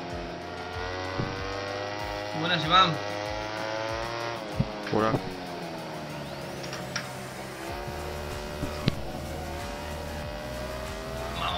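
A MotoGP 17 racing bike engine whines and rises in pitch in the game, a continuous buzzing drone with shifting revs, heard beneath brief spoken greetings and occasional sharp blips.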